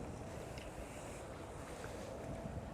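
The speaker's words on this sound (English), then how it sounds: "I'm hearing a constant trickle of water. That is because I'm standing right on the other side of a small man-made waterfall" Small man-made waterfall beside Amsterdam Schiphol Airport, giving a constant, even rush of falling water mixed with wind noise, steady and fairly faint throughout with no talk.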